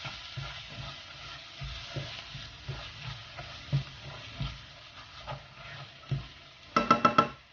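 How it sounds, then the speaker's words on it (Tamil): Masala spices for mushroom kaalan sizzle and fry in oil while a spoon stirs and scrapes the pan, ending with a few sharp metallic knocks. "இந்த ஆயில் கூட அது நல்லா ஃப்ரை ஆகணும் நம்மளுக்கு."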